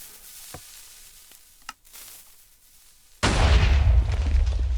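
A loud TNT cannon blast in a video game bursts in partway through, after quiet low ambience with a few faint pops, then a dense roaring, crackling rumble sustained to the end.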